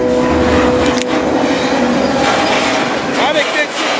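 Freight train rolling alongside the Missouri River in Wyoming, a loud steady rumble of rail cars with a sustained tonal squeal and clatter throughout, close by and continuous.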